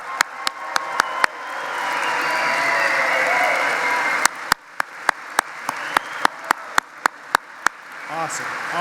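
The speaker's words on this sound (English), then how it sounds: "one big round of applause for our 2022 graduates" Audience applause for 2022 high school graduates at a convocation ceremony, a soft sustained clapping wash from a crowd, punctuated by sharp, loud clicks near the microphone.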